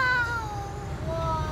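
A cat meows from a high perch where it is stuck, a drawn-out, wavering cry heard on its own at moderate distance, fading and rising again over about a second and a half.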